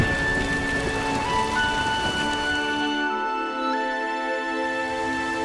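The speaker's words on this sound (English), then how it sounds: "There's no point standing here in the rain." Steady rain falls in The Witcher video game, a continuous close hiss of drops on surfaces with a sustained musical tone layered over it and no talking.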